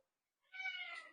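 A single short cat meow, fairly faint, rises out of near silence and lasts about half a second.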